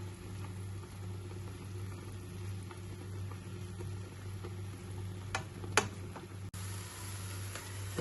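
Garlic and salmon boiling in a pot, a low steady bubbling hum with small scattered ticks and clinks, fairly quiet and unbroken throughout.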